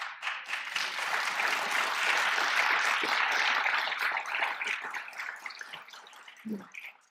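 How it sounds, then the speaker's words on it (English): Audience applause at a county budget address fills the hall with dense, sustained clapping from a large crowd, steady for several seconds before thinning out toward the end. "And you're clapping"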